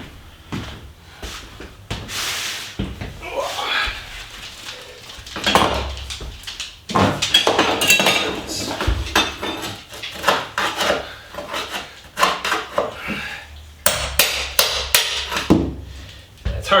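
A rigid 2.5-inch drywall putty knife scrapes at linoleum floor tile, giving repeated irregular scraping and knocking strokes with clattery bursts, close and fairly loud, with no speech.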